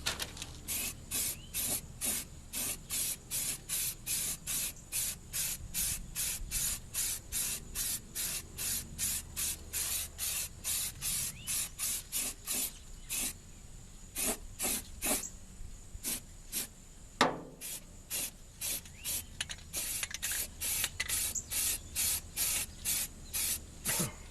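Short bursts of spray paint hiss in a quick, regular rhythm, with a few brief pauses and longer sprays, as a 1966 Chrysler 300 is painted without a compressor, mask or booth; the hissing is close and there is no talk.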